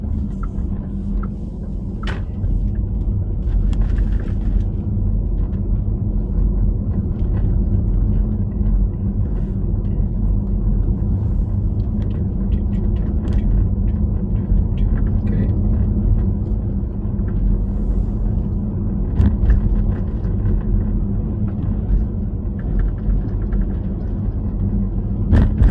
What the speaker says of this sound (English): this is what traffic looks like